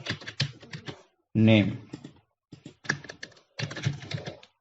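Computer keyboard typing while entering text into a Google Sheets cell, short bursts of key clicks interleaved with someone speaking Bengali close to the microphone.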